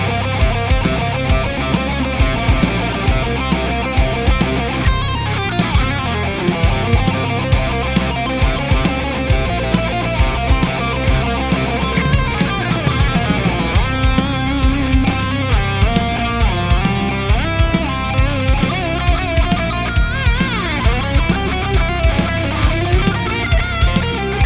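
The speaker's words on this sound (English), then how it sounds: "stretch it back out to the original tempo and reamp that and chuck it into the backing track" Time-stretched, reamped electric guitar DI, slowed and then stretched back to its original tempo, plays busy, rushed licks over a full band backing track, loud and continuous throughout with no talking.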